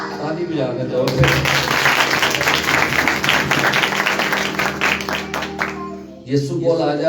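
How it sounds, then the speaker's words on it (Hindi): An audience at a live worship service clapping hard, with dense, loud applause and rhythmic claps filling several seconds alongside music, then stopping abruptly as the hum of the room returns. "ताली बजा के जोर से।"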